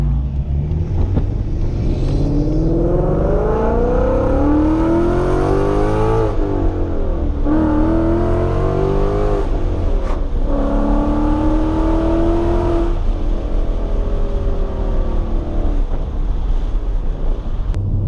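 A 2020 Mustang GT fitted with a Corsa Sport exhaust revs repeatedly, its V8 engine note climbing and falling in several loud pulls over a constant rumble with some wind noise.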